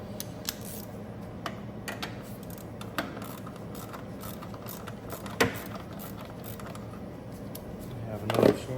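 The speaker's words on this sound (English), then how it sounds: "We have another short ratchet. That makes the job much easier." A short ratchet clicks while loosening bolts on a Toyota intake manifold, with quiet intermittent ticking and clatter at close range and a couple of louder metallic knocks toward the end.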